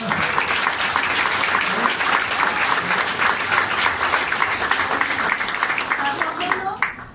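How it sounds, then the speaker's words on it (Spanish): A congregation at an Assemblies of God missionary service applauds in a loud, continuous, crackling wash, with voices calling out over the clapping before it drops away at the very end. "Acá podemos dar también un aplauso al Señor por eso."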